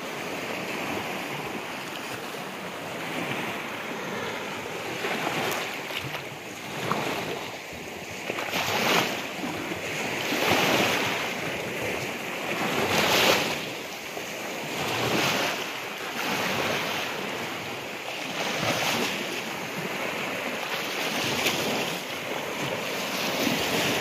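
Sea waves break steadily on the beach at San Narciso, Quezon, a continuous surging wash with rhythmic swells, heard close and loud with wind buffeting the microphone.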